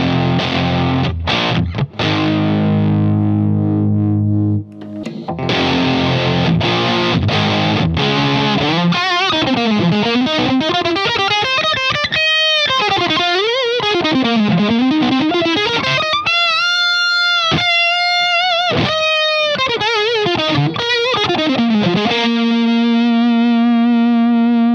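An electric guitar with a high-output DiMarzio Evolution pickup plays through a Boss DS-1 distortion pedal. Loud, gritty chords and bending single notes ring out close, ending on a sustained held chord.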